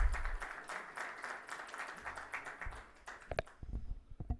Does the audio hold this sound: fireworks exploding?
no